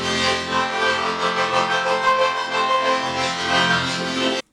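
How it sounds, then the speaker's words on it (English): Ableton's Spectral Resonator plugin effect yields a dense, full-range metallic drone of stacked resonant tones that shimmer and pulse steadily before cutting off abruptly at the end. "The last spectral resonator we have sounds like this."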